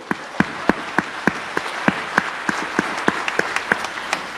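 A seminar audience gives a short burst of applause, with a few sharp claps standing out at an uneven rhythm over a dense wash of clapping, loud and close.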